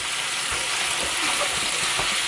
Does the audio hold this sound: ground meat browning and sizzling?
yes